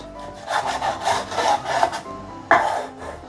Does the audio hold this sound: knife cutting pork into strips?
yes